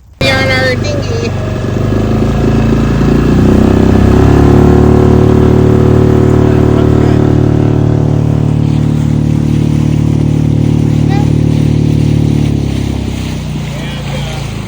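A dinghy outboard motor drones loudly and steadily on the water during a boat trip in Washington waters, its pitch rising slightly as it speeds up and then holding, with a voice speaking faintly over the engine.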